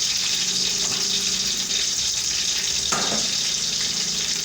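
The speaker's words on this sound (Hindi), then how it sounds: "यहाँ हमारा तेल गर्म हो गया है, इसमें हम प्याज ऐड करेंगे।" Chopped onions hit hot oil in a pan for a vegetable pulao, giving a loud, steady hiss and sizzle that runs unbroken from start to finish, with no voices over it.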